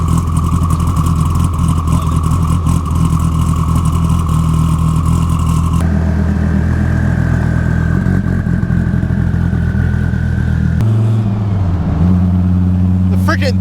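A twin-turbo Dodge Viper ACR cruises with its engine droning loud and steady, the pitch shifting at a couple of points as it changes load, while people talk over it inside the car.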